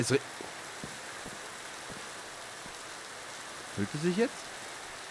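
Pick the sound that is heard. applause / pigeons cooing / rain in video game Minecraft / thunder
rain in video game Minecraft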